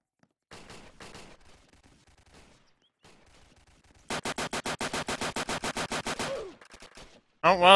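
Video game gunfire: a few scattered shots early, then a long rapid automatic burst of evenly spaced loud bangs for about two seconds, followed by a sharp final blast, with brief talk before the shooting.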